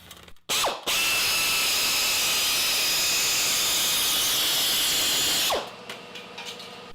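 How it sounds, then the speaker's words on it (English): A handheld power shear cutting sheet metal or thin aluminum makes a loud, steady rasping whine of about five seconds, starting and stopping abruptly, with quieter mechanical clicks before and after. "So it cuts sheet metal and also thin aluminum, and you can cut in a straight line or you can do corners and turns."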